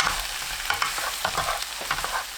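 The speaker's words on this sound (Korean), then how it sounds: "불 끄고 후추 한 꼬집 넣어 섞어줍니다." Korean donggeurangttaeng (meat and vegetable patties) are stirred with a pinch of pepper in a pan after the heat is turned off, giving scraping and clacking stirring sounds in an uneven rhythm over a light sizzle.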